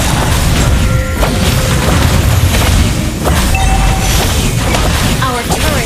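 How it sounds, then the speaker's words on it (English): In a mobile battle game, a turret gets destroyed amid dense, loud match audio: booming impacts, bursts and pops layered over constant game effects and music, with a game voice announcing events. "Our turret has been destroyed."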